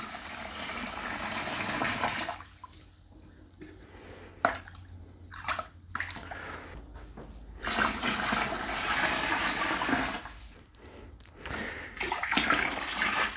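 Roughly three liters of water pouring into a dextrose sugar wash for distilling, a broad splashing rush that swells and breaks off several times, fairly close, with no talk.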